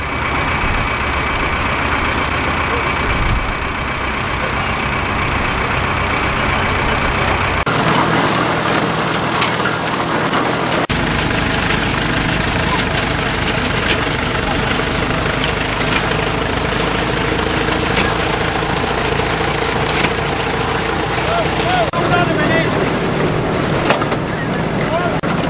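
An International Harvester No 15 wire-tie baler's engine, its magneto giving trouble, runs steadily outdoors in a field, a continuous loud mid-pitched engine drone with shifts in tone partway through.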